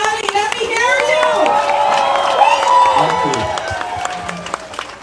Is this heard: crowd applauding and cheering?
yes